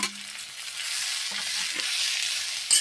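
Thinly sliced onions, four of them, fry in a pan for chicken perattu, giving a soft, even hiss with a couple of light utensil clinks, close and moderately quiet.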